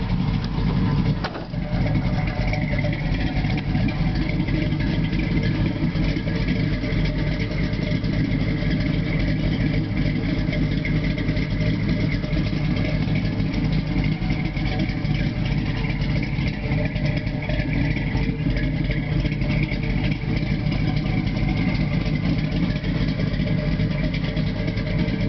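A 1969 Chevrolet Camaro engine idles steadily and close up, a continuous low rumble with a brief bump near the start and no talk over it.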